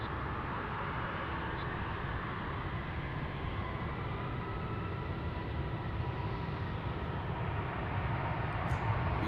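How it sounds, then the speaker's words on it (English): A jet airliner spools up at the start of its takeoff roll at Dallas/Fort Worth airport, a steady broad roar that slowly builds in strength and stays loud and continuous throughout, with no talking. "we'll start our takeoff roll here"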